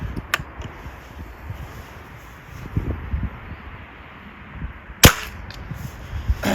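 An Air Venturi Springfield Armoury M1A air rifle fires a single sharp, close crack near the end, after a quiet stretch with a faint click earlier and low handling rustle.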